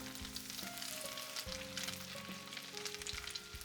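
Pieces of tofu and eggplant fry over medium heat in oil in a pan, giving a steady close sizzle with faint crackles and a few soft background tones, no talking.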